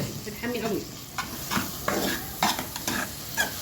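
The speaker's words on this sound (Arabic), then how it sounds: "بعد ما شوحت البصل وريحته، الفلفل قصدي، وريحته طلعت، هنزل بقى بالطماطميتين" Onions and peppers fry in a pan as tomatoes are added, giving a steady close sizzle with repeated scraping stirs throughout.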